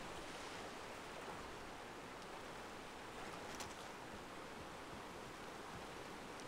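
Broad, steady wash of water and waves in the open-world game Far Cry 3, continuous and fairly faint, with no talk over it.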